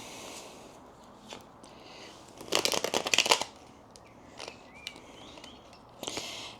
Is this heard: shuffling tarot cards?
yes